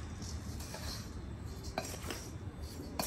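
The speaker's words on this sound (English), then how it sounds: "And now I'm going to give it a little mix." Bath soak ingredients are stirred in a glass jar, giving faint scraping and gritty rubbing with a few small clinks of a utensil against the glass, close and quiet with no talk.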